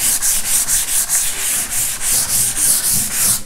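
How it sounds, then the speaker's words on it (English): A brad pad is rubbed back and forth across a raised stencil in a light sanding pass, giving a close, loud, rhythmic scratching of about a dozen even strokes with no voices. "You just need to give it a light sand all the way across"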